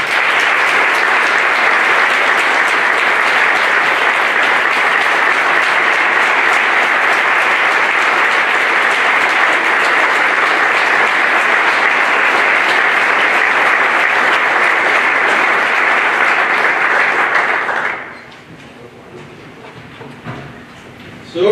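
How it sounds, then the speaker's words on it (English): Loud, steady audience applause at a fire academy graduation, unbroken for about eighteen seconds before cutting off abruptly into near quiet. "I think we should give them a round of applause"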